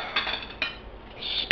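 Soft scraping and clinking of a silicone spatula working leftover mac and cheese out of a pot, a few brief strokes close by, fairly quiet.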